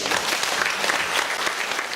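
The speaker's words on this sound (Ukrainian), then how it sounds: "І аплодисменти вам за это." Sustained applause from an audience honoring medical workers at a professional holiday ceremony, dense steady clapping throughout with no speech.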